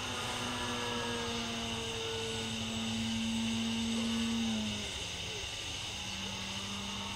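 Senior Telemaster RC model airplane flying a loop at night, its engine droning steadily with a tone that climbs and then drops as the plane comes around.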